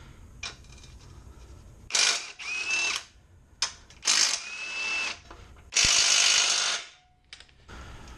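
An impact tool works the control arm bolts on a car suspension during repair, firing in several short loud bursts with whirring and ratcheting gaps between them, close up with no talk.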